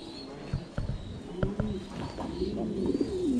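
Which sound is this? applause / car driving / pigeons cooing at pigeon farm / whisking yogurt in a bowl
pigeons cooing at pigeon farm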